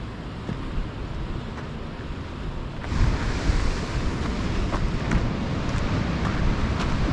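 Sea waves break continuously on the shore at Porto Covo in Portugal, a broad roaring wash that swells louder midway and keeps rumbling, with some wind buffeting.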